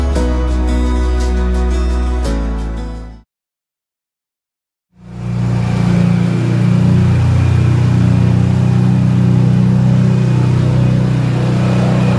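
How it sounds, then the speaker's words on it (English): A noisy car on a summer drive in Puglia makes a loud, steady engine and road roar that cuts out briefly and then returns, droning on with a strong low rumble. "so sorry for how noisy this car is"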